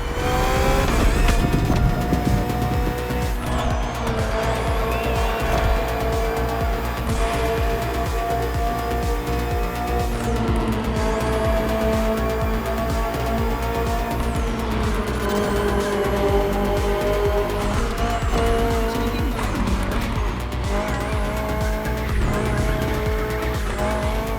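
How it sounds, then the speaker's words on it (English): A BMW M Hybrid V8, the 2023 endurance race car built for events like the 24 Hours of Le Mans, roars continuously in The Crew Motorfest, engine droning loud and close with repeated gear shifts and tire squeal throughout. "Finally, the BMW M Hybrid V8."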